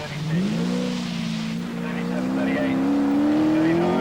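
A rally car in a 1983 televised rally sprint drives toward the last corner, its engine droning and rising steadily in pitch, with commentary partly over it.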